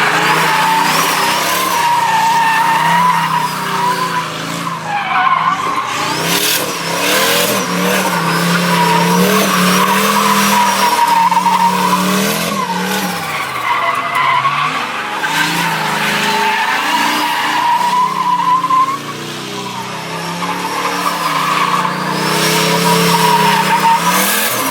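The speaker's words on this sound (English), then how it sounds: "Those tires actually spin pretty good." Lexus IS350 drifting in an abandoned lot, tires spinning and squealing almost without pause over a roaring, revving engine, loud and close throughout.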